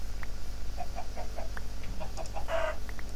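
Minecraft chicken clucking in short, repeated blips at a steady pace, joined by a brighter squawk near the end, with no voices and only faint game ambience underneath.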